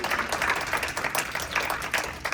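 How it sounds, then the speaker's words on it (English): An audience at a sold-out Jersey City tech meetup claps together, a dense, steady burst of applause filling the room for a couple of seconds. "Everyone give yourself a round of applause"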